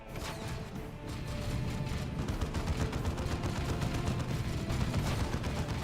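A dense battle in Dawn of War 2 Retribution, with continuous rapid gunfire and crashing impacts layered into a loud, sustained clatter that builds slightly and keeps going without pause.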